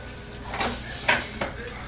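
Half a cup of chopped onions cook in a pot for a basic potato soup, heard as a faint sizzle with a few sharp utensil clatters against the pot nearby.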